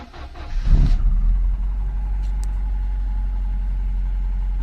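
A Mercedes car engine starts from a push start button: a short crank and catch, then a steady low idle hum nearby, with no one talking.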